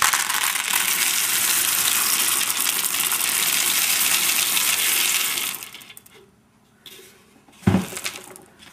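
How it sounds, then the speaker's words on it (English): Dried beans poured around a wooden dowel inside a container for a ribbon-rose topiary tree, a loud steady rattling pour lasting about five seconds, then quiet with a few small clatters and a thump. "put the dowel in the beans, and then put the rest of the beans"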